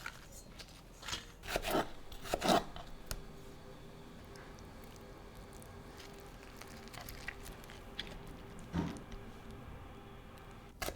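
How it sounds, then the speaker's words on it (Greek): Cabbage leaves having their hard central rib cut out with a knife for tomato cabbage rolls, giving a few close crunchy slicing sounds early on and one more later, over quiet kitchen background without talking. "Κόβω το κεντρικό κομμάτι γιατί αυτό είναι σκληρό"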